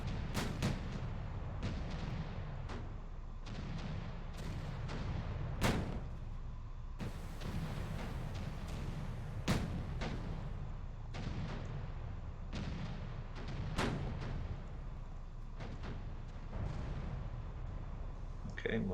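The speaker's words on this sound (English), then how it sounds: "Battleships engage" Battleship naval guns fire in the Victory at Sea Pacific game, a series of sharp booming blasts at irregular intervals over a constant low rumble of battle noise.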